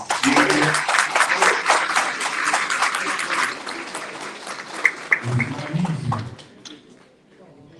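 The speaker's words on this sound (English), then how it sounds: "Please give her a round of applause." Applause at a mosque gathering honouring a speaker's wife, dense clapping for several seconds with voices talking underneath, fading as it ends.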